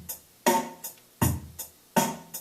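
A sparse drum machine pattern plays quietly: alternating kick and snare-like hits with lighter ticks between, in a steady, simple rhythm.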